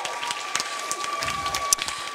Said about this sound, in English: So a round of applause for you as well.